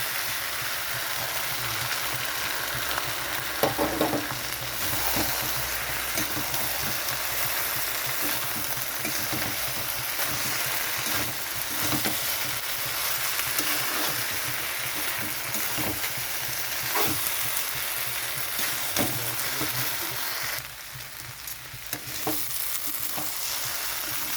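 Poppy seed paste frying in a pan with spring onion greens, a steady dense sizzle with frequent stirring scrapes, dipping briefly quieter near the end.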